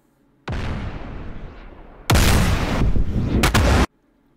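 Missiles launch in the DCS flight simulator during an Iran versus Pakistan air battle, a loud rushing roar starting near, easing, then a louder sustained burst of firing for over a second before cutting off abruptly; no talking.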